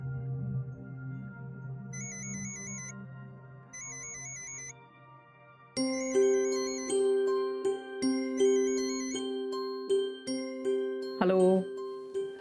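A phone rings for an incoming call in a Marathi TV serial scene: a looping electronic ringtone melody, quiet at first and then louder and brighter, repeating without voices.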